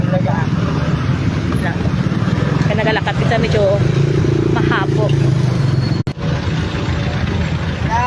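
Heavy morning road traffic of cars and motorcycles at the approach to a flyover in Pavia, Iloilo, a steady close engine rumble with passing vehicles throughout while someone talks over it.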